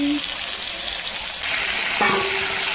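Meat and potatoes sautéing in a pan produce a loud, continuous frying hiss, with a brief tonal clink near the start and another partway through.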